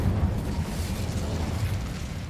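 Incendio fire spell cast in the Hogwarts Legacy video game: a dense, rumbling burst with a low roaring body that holds steady and fades slightly over about two seconds.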